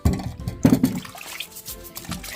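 Water draining out of a container at a kitchen sink, with gurgling bursts and a trickle that swell and fade irregularly, heard up close with no talk.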